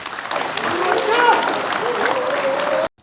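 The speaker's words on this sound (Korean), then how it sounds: "여러분 한 번 더 박수를 주십시오." A Korean political talk audience claps loudly and steadily as a speaker is welcomed. A voice rises over the dense applause before it cuts off abruptly near the end.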